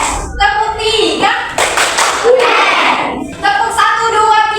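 A group claps in rhythm during a counting game, with bursts of loud, dense applause-like clapping between stretches of a voice speaking and children's voices.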